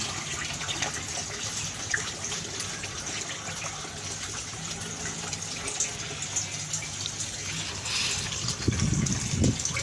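Water pours steadily from a shower head into an aquaponics fish tank, a continuous splashing gush with louder, rougher bursts near the end.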